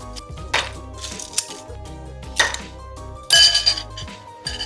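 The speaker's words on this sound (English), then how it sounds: "we're gonna fill our glass with ice" Ice cubes dropping and clinking into a cocktail glass for a Halloween daiquiri, several bright clattering bursts in quick succession with small rattles between them, close and clear, with no speech.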